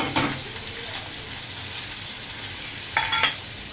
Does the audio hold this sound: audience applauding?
no